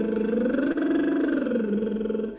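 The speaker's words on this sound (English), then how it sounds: "1-5-1 lip trill, which sounds like this." A singer performs a 1-5-1 lip trill, the buzzing lips sliding up a fifth and back down to the starting pitch in one continuous, close, steady voiced trill with no talk.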